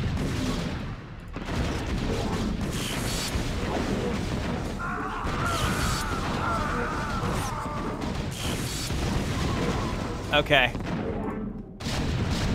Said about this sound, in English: I hear tanks.